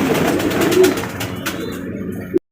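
Pigeons, including Satin and King breeds, coo softly amid a busy, noisy background before the sound cuts off abruptly.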